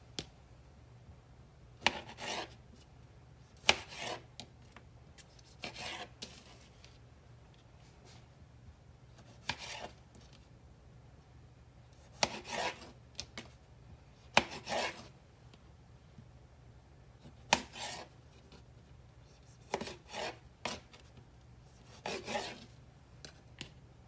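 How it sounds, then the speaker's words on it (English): A knife cutting cherry tomatoes into little pieces on a board, a dozen or so short, quiet scraping cuts spaced irregularly in a hushed room. "my cherry tomatoes up. And I'm just going to cut them"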